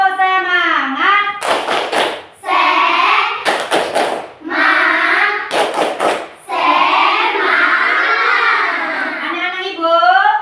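Children in a classroom perform tepuk semangat, a rhythmic scout clap, as bursts of sharp, loud group claps punctuate their chanting voices, with pauses where the kids speak and sing between the clapping patterns.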